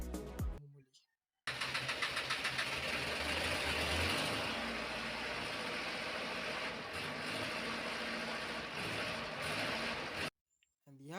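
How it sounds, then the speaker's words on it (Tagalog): A rice mill machine's engine runs with a steady, loud mechanical drone and rapid rhythmic chugging, starting after a brief gap and cutting off near the end, with talk over it. "So nakakita po tayo ng smoke, meaning running condition po yung ating makina."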